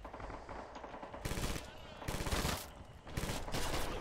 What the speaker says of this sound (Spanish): La única arma rusa que me gusta es la PPSH.